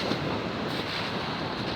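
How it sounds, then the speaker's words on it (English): Strong, steady wind buffets the microphone on a stony beach at Bognor Regis, West Sussex, on a wet day, a constant loud roar with surf-like rushing and no voices. "Really windy and wet here today."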